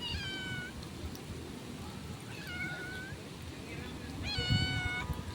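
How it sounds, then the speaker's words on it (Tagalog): A hungry cat meows repeatedly in a home kitchen during cooking, three drawn-out, slightly whiny cries spaced a couple of seconds apart over faint background noise and rustling. "Itong pusa na to."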